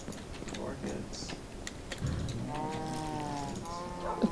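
A cow on a video game farm lets out a drawn-out, tonal lowing call in the second half, over a steady bed of game background noise and light clicking.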